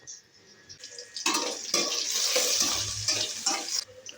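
Mustard seeds and cumin dropped into a hot pan for pulihora, giving a bright crackling sizzle that rises suddenly and holds steady for a few seconds before cutting off.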